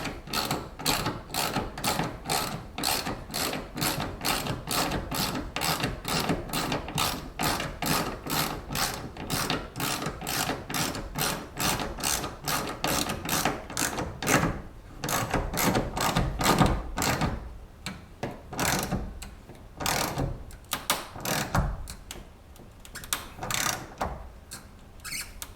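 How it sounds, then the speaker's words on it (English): A ratchet clicks in a fast, steady stream while bouldering holds are set, close and even at first, then breaking into shorter, uneven bursts with brief pauses. "Exhilarating ratchet stream."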